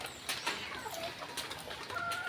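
Boston Gray broodcock chickens on a small backyard poultry farm give short clucking calls, with several brief bird sounds scattered over a steady outdoor background.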